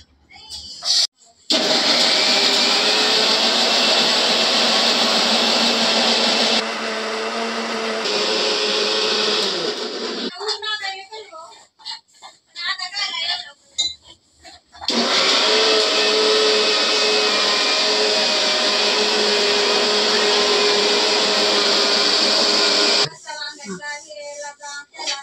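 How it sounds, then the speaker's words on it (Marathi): A mixer grinder grinds coconut, green chilies, ginger and garlic in loud, close, whirring bursts, stopping briefly twice, with a short stretch of talk in one gap. "हे सगळं वाटायचं आपलं. पहिले टाकलं खोबरं, मिरच्या, अद्रक, लसूण,"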